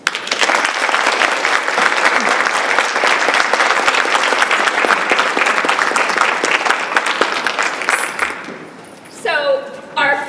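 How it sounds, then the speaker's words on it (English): Sustained, dense applause from a conference audience for speakers at a professional development session, loud and steady, fading out near the end before a voice starts speaking. "Another round of applause."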